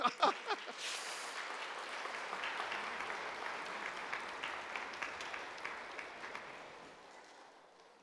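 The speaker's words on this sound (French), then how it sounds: "Applaudissons encore" A congregation at Sunday mass claps steadily, a few sharp claps standing out at the start before the applause settles into an even patter and fades toward the end.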